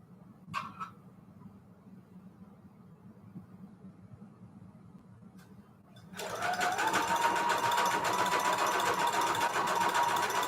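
Quiet room tone with a couple of faint clicks, then a sewing machine starts up stitching lace and fabric trim, a steady loud mechanical whir that holds to the end.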